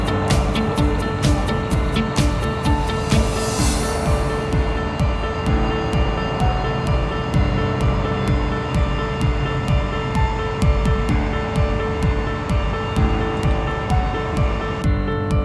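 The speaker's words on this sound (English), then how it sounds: "Here goes that A320 pushing back as it's going to begin its service" An Airbus A320 airliner pushes back at Perth airport, its engines a steady broadband roar with a low rumble that holds loud and continuous, punctuated by regular faint ticking clicks.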